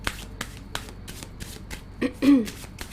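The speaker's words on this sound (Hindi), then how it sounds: "अभी मैं शफल करूँगी।" Tarot cards shuffled by hand: a series of crisp, regularly spaced riffling flicks, close and clear, followed by a short voiced sound near the end.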